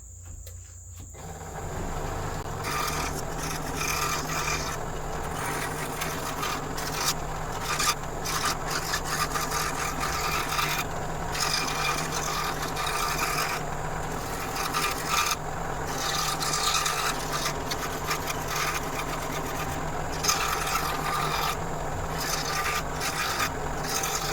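Baltic birch plywood cup being cut back to the line, a steady close rasping and rubbing of a tool against wood in repeated strokes, with no talking.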